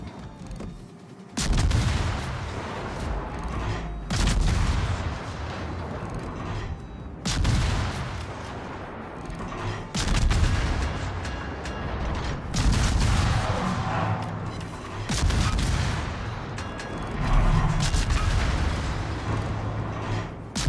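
Naval guns firing in World of Warships with the destroyer Ragnar: heavy, booming salvos roll out at irregular intervals, each a loud deep blast that decays into rumble, with little talk.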